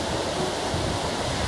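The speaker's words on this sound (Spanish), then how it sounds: "Esta es la playa de Boca de Iguanas." Ocean waves at Boca de Iguanas beach on a rocky Mexican coastline, a broad continuous roar of surf washing in steadily and fairly loud, with no talking.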